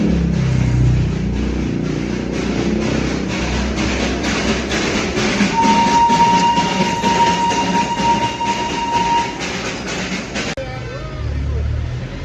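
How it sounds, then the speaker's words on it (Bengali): Darjeeling toy train at Kurseong railway station: a loud, steady rumble of rolling wagons with a sustained whistle tone midway, and people talking nearby throughout. "অবশেষে দেখা পেয়ে গেলাম আমাদের সেই কাঙ্ক্ষিত টয় ট্রেন।"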